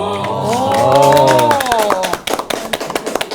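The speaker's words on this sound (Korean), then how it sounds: "우리가 박수 친 걸 지금 시청자분들 들으셨나요?" Studio hosts on a Korean talk show clapping, a quick burst of hand claps following a sustained voice, close and fairly loud.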